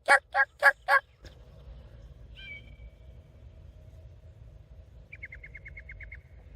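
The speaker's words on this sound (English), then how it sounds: "I just heard a turkey gobble." A wild turkey gobbles on a farm: a rapid burst of four loud calls at the start, then a quiet outdoor background with faint distant bird chirps.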